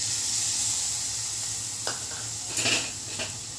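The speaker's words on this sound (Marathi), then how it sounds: "चांगलं मिक्स करून घेऊ आपण." Potato bhaji with lemon juice is stirred in a hot pan, a soft continuous sizzle punctuated by a few sharp scrapes and clinks of the spoon against metal.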